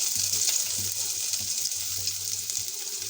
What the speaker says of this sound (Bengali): আমি পেঁয়াজ দিয়ে দিচ্ছি